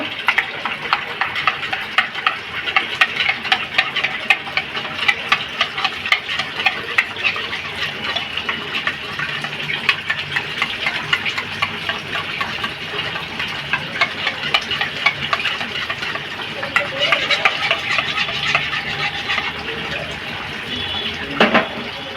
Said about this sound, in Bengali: এবার দইটা ফেটিয়ে নেব।